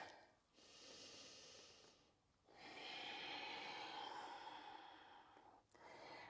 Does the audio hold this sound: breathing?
yes